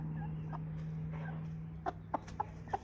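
American Bresse pullet giving a few soft, short clucks near the end, spaced apart over a steady low hum from the surroundings.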